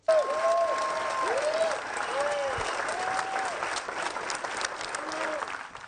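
Audience in the auditorium of the Melià gives a sustained ovation as Italian film director Dario Argento enters to receive an honorary award at a festival, steady dense clapping throughout with a few faint whistles or tones over it.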